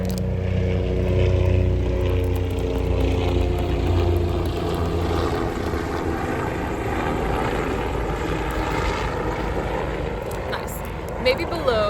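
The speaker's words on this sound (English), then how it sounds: "sorry about all the noise, there's a helicopter." A helicopter passes overhead, its low, steady rotor rumble filling the background under continuous close talking, with the engine drone holding fairly constant throughout.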